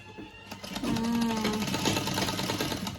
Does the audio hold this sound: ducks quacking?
no